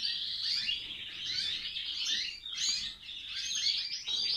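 Female European goldfinches kept as breeding birds chirp and twitter in quick, bright overlapping calls, fairly close and moderately loud, continuing without pause and with no voices.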